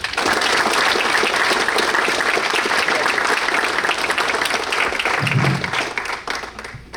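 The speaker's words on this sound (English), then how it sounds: "Give yourselves a round of applause." Sustained loud applause fills a room at a boys' lacrosse banquet, steady clapping from a large crowd for about six seconds before tapering off at the end.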